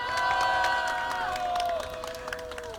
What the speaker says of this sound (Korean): 참석하신 동지 여러분들의 힘찬 함성과 박수 소리로 오늘 집회를